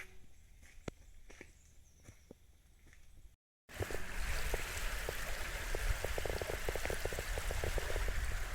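Spring water flows out of the ground at a spring in Germany: first a few scattered footsteps and small splashes, then, after a brief gap, a steady, close, loud rush of running water.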